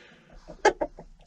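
Backyard laying hens give a short burst of clucks, several quick sharp notes in a row, close and fairly clear over a quiet background.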